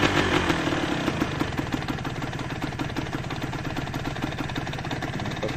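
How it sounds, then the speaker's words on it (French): Modified Kawasaki KDX motorcycle engine idling around 900 to 1000 rpm, a steady close putter with a rapid regular beat, no voices. "On doit tourner à peu près à 1000 ou 900 tours, quelque chose comme ça au ralenti."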